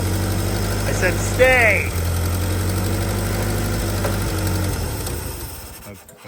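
An old Hyster flathead forklift engine idles roughly and steadily up close, then sputters and dies near the end, with someone speaking briefly over it.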